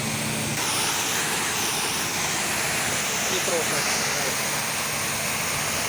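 A spray gun blasts water onto a car's rear window as a steady loud rushing hiss that fills the whole stretch, with a brief spoken remark underneath.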